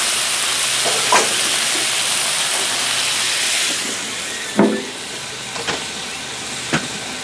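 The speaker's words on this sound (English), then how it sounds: "you can squirt some water on your potatoes and stuff to help it steam more" Continuous loud hissing and sizzling of potatoes steaming on a hot griddle after a squirt of water, with a few sharp pops and crackles breaking through.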